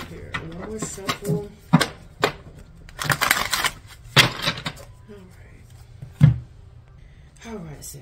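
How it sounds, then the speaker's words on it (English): Tarot cards are shuffled in a series of quick, papery riffles and clacks that come in separate bursts with short pauses between them, close and fairly crisp. "One more shuffle."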